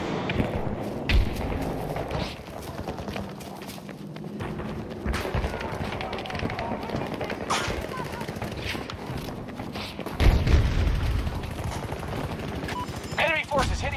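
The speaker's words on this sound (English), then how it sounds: "Missile hit the target!" Missile explosions and heavy gunfire in the shooter game Battlefield 2042: a dense, constant barrage of shots and thuds with a loud, booming low blast near the end, mixed with background voices.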